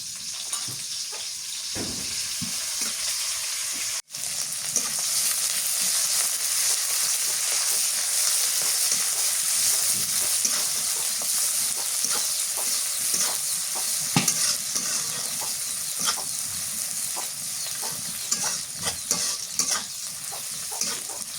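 Black cumin seeds and sliced onion fry and sizzle in a pan for a hilsa fish curry, a loud continuous hiss with occasional stirring scrapes lasting the whole stretch.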